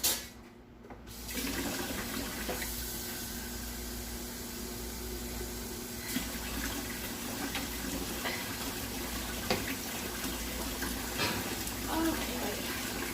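Tap water runs steadily into the water pan at the bottom of an oven set for baking a flan, a continuous hiss lasting throughout after a brief pause at the start.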